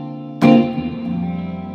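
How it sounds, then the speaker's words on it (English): An electric guitar with new pickups rings out through an amp's spring reverb: one sharp strummed chord, then a long, shimmering, splashy reverb tail that slowly decays, heard close with no talking. "Great spring reverb. The reverb you're hearing is just through the amp."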